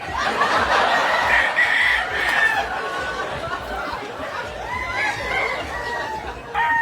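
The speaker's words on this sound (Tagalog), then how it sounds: "Manok ini, sige." A chicken squawks and crows loudly and continuously, close by, with excited voices chattering and laughing underneath.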